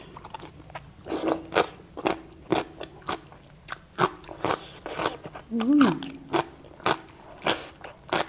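Crispy Thai crackling pork belly bitten and chewed close up, a steady run of sharp crunches over about eight seconds, with voices speaking in between.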